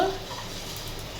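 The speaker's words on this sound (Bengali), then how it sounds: "বড়িগুলো একটু ভাজা করে নেব" Lentil dumplings (bori) made from biuli dal fry gently in a pan, giving a soft, steady sizzle with faint stirring scrapes, close and low in level, with no talk.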